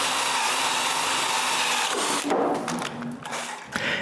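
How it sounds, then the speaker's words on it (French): Power drill boring holes into a wooden block: a loud, steady grinding whir that cuts off partway through, followed by a few quieter scraping and clattering sounds. "je perce un plus gros trou, la moitié de l'épaisseur de mon bloc"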